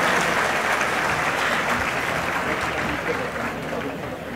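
Sustained, broad applause from a large audience at the closing ceremony of the 20th World Marathi Conference, thick and continuous, slowly fading a little toward the end.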